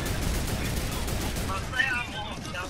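Gunfire rattles in Fortnite Chapter 2 Season 8 as dense, fairly steady bursts over a short stretch, with players chatting over it.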